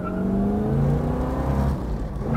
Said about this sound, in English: Now let's see if the accelerator works.